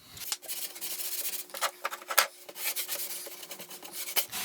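Paste wax is rubbed by hand onto a wooden project, making close, soft swishing strokes in an uneven back-and-forth rhythm with a few sharper scuffs, and no one speaks.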